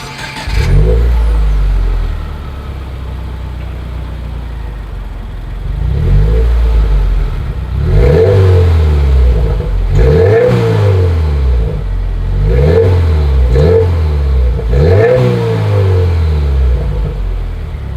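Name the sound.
car exhaust revving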